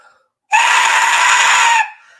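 A 3D-printed Aztec death whistle gives one loud, sustained, shrill scream-like blast of about 1.3 seconds, starting abruptly and then cutting off, with no talking.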